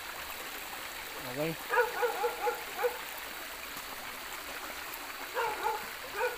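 A river rushes steadily in the background while a person speaks briefly in Filipino over the flowing water.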